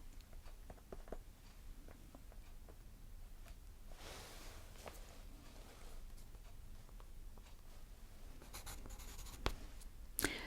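Pencil writing on paper, close and quiet, with soft scratching strokes throughout, a denser scribbling stretch partway through and a few sharper taps near the end.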